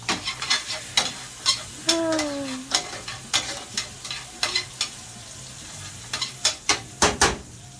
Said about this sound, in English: We're just going to let this saute.